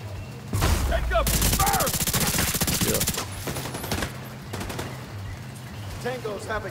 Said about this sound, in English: Somebody on your side shooting me.